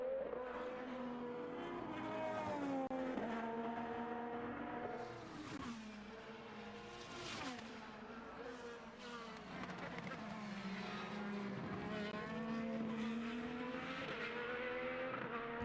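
IndyCar race car on track during qualifying at the Barber road course in Alabama, engine note rising and falling steadily as it accelerates and passes, loud and sustained under continuous commentary.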